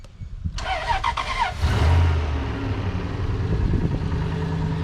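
A Toyota 4Runner with a slightly low battery cranks for about a second with a rapid starter chatter, then catches and roars into a loud, steady idle close by.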